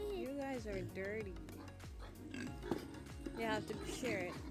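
A farm pig grunts and oinks repeatedly while eating cabbage, the short rough calls coming close together, with other animal noises mixed in at moderate level.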